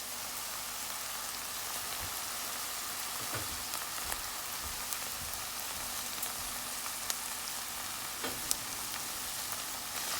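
Onion and garlic frying in a pan for a coconut milk dish with bora, potatoes, carrot and chicken make a steady, even sizzle with faint occasional clicks and no talking.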